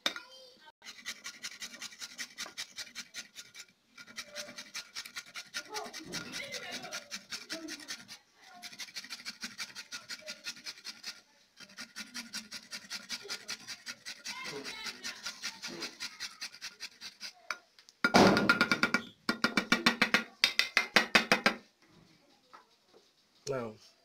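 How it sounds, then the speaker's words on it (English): A carrot is rubbed on a grater in repeated fast rasping bursts, separated by short pauses, with a louder, harsher stretch near the end. "So we have to grate the carrot also."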